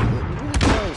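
A smoke grenade is thrown in Modern Warfare PSVR team deathmatch, landing with a single short, muffled pop-thud partway through, over low game ambience and a faint voice.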